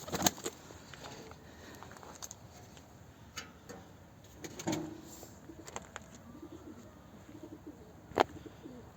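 A Bozkirli pigeon set on the ground, giving soft low coos amid light scuffs and ticks, faint and close.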